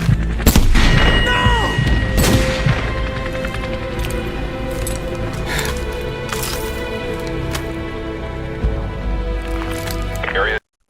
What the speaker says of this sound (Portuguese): Quando ele atira no Roach e no Ghost